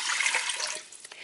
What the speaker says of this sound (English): I've got to put in 3 cups of water